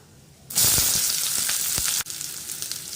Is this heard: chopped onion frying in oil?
yes